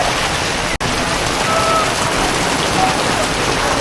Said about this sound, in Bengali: এরকম বৃষ্টি হচ্ছে